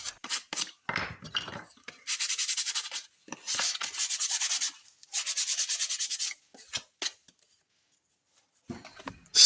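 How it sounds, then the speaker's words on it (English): Rough scrap wood pieces sanded by hand, close-up bursts of rapid back-and-forth scratchy rubbing separated by brief pauses and a few knocks of handling the wood. "I cut 4 rough pieces and give them a hand sand"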